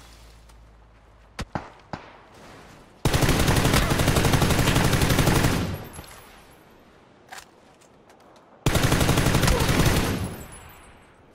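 PUBG gunfire: a few sharp isolated shots early, then two long bursts of rapid automatic fire, each lasting about two to three seconds, loud and close with a single shot between them.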